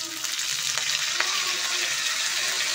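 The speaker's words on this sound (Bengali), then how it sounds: "ওই ব্যাটারটা তেলের মধ্যে এবার ফোড়নে দিয়ে দেবে" Batter sizzles steadily in hot oil with a mustard seed tempering and curry leaves, a close, continuous crackling hiss with faint stirring clicks and no talk.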